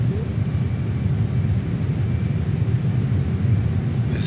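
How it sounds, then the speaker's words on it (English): A JAS-39 Gripen jet engine in Microsoft Flight Simulator gives a loud, steady roar, a deep rumble layered with a whining and hissing tone that holds unbroken throughout. "There's a vacuum cleaner type whine, there's a hiss, and there's a jet thunder all going on at once."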